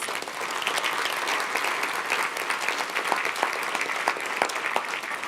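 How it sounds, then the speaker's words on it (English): A conference audience in a room bursts into sustained applause, dense clapping from many hands spread evenly at moderate distance, with faint voices beneath. "please let's give ourselves a round of applause"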